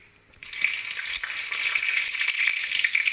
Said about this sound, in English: And now I'll drop in the red chili and of course the bay leaf.